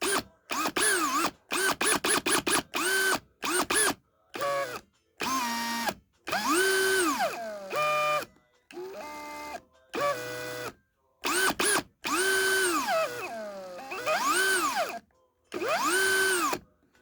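An Einhell TE-CD 18/50 Li BL cordless drill driver whirs in repeated short bursts at first speed, its motor pitch rising and falling as it spins up and slows, close and fairly loud.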